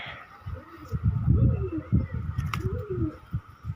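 Several pigeons with eye ailments, kept for treatment, coo continuously nearby, deep rounded warbling calls overlapping one another, with a faint chirp partway through.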